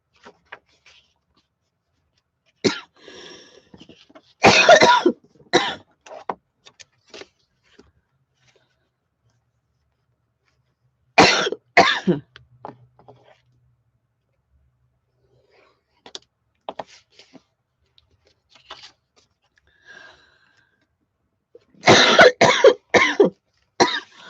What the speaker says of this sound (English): I know y'all are used to listening to me cough, but I hate it when I do it.